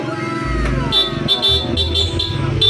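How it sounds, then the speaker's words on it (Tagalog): A car's aftermarket dual horn honks in several short bursts with a bright, doubled tone, close by, over a low engine rumble. "naka dual horn pa rin tayo."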